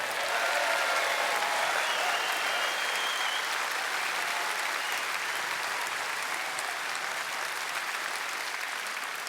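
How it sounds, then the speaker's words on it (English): Conference hall audience at a Reform UK party conference breaking into sustained applause for Richard, a thick, even wash of many hands clapping that stays loud and steady for over nine seconds. "Give Richard a round of applause"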